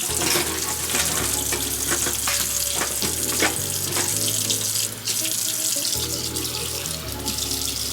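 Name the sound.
hot tap water running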